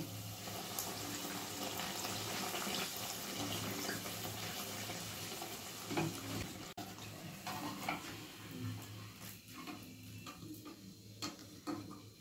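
Kachori, a Bengali stuffed bread, fries in hot oil in a pan, giving a steady bubbling hiss with occasional light clinks and watery crackles, close and continuous, with no talking.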